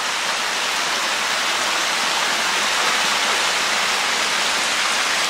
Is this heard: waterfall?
yes